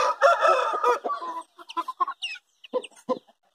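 Hens and chicks of a white bearded Indio gamefowl line cluck and cheep in short, close bursts, with a rooster crowing once amid the flock; no talk, a lively farmyard cluster that fades into scattered soft calls.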